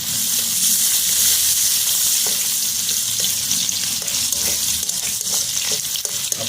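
Chopped onions frying with whole garam masala and cumin for a butter prawn dish, a loud continuous hissing sizzle close up, with faint scrapes of stirring scattered through.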